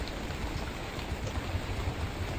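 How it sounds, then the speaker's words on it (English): Steady rain in a video game hisses continuously at a moderate level, an even wash of falling drops with no voices. "It's raining."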